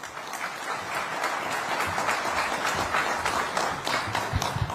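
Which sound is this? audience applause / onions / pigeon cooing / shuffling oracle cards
audience applause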